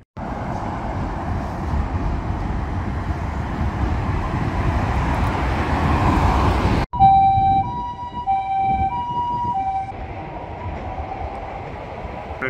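A fire engine siren wails steadily on a Japanese city street, loud and close, with a steady drone of traffic underneath. Partway through it cuts to quieter street ambience with tonal beeping.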